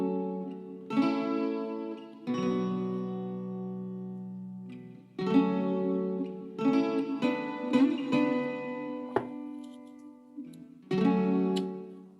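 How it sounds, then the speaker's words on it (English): Strummed chords on a twangy, slightly out-of-tune stringed folk instrument, several chords with ringing sustains and pauses between, played alone up close. "The instrument is a folk instrument, so it is very much out of tune very often"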